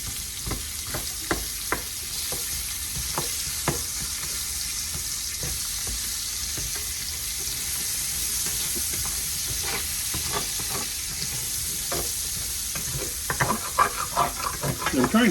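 Veal shoulder frying in a one-pot dish sizzles steadily under scattered scraping and stirring strokes against the pan, with the scrapes growing busier and louder toward the end of the stretch.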